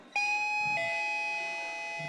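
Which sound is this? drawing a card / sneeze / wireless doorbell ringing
wireless doorbell ringing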